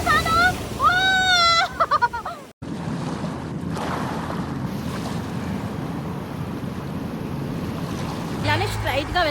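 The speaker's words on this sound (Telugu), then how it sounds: "సముద్రం అంచులకు వచ్చేసాను." Sea waves break at the edge of a beach in Gokarna, a broad steady surf roar mixed with strong wind buffeting the microphone, after a brief tonal sound at the start.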